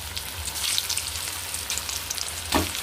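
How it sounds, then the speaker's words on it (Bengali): Potatoes fry in oil left over from frying onions, making a continuous soft sizzle with crackling pops and a few brief louder spits, heard alone and fairly quiet. "আলুটাকে এবার আমি সেই পেঁয়াজের তেলেই দিয়ে দেবো।"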